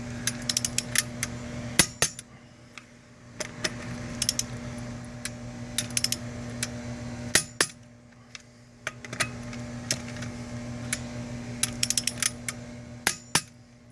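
Lug nuts on a Pontiac Grand Prix front wheel being tightened in a crisscross pattern with a click-type wrench: scattered metallic clicks and clanks over a steady background hum, close by, no talk.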